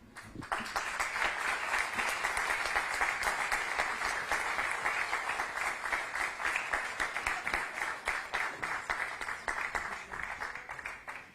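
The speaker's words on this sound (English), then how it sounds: "Another round of applause, please." Audience applause at a chamber of commerce annual general meeting in Mumbai, steady rapid clapping from a crowd sustained at an even level for about eleven seconds, with no speech over it.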